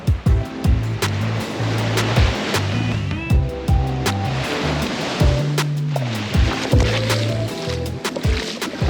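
Ocean surf washes onto the beach at Port Barton in continuous loud rushing waves, close by, with a low rumble and no clear talk.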